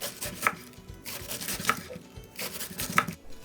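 A knife chops through a block of iceberg lettuce, three crisp cuts spaced about a second apart, close and clear with light crunching in between.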